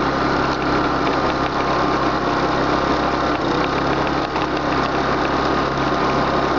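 A gas generator on a 72V 3000W Cyclone gas-hybrid ebike runs at a steady, loud, even drone with a buzzy engine tone and no voices.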